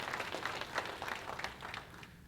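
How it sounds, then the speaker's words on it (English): An audience at an education symposium gives a round of applause for young people, a steady spread of many hands clapping at moderate distance, fairly soft and continuous before tapering off. "let's give them a big round of applause"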